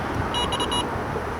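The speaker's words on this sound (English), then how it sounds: "the bite alarms are going crazy with all the debris coming down here" Carp fishing bite alarms on the River Cam give a quick run of short electronic beeps, about four pulses in under half a second, faint over steady outdoor background noise, with no talk.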